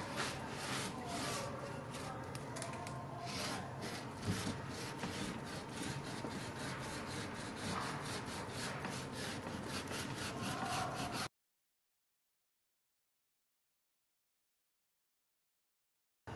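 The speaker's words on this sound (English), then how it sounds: "now we're going to take the cork and smooth it all out" Cork block rubbed back and forth along a waxed cross-country ski base, a steady close scrubbing friction that runs continuously for about eleven seconds, then drops to silence.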